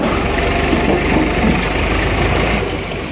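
A tractor engine straining hard to pull out a stuck, overloaded tractor, a loud, close, continuous diesel drone that holds steady and eases slightly at the end, with no talking.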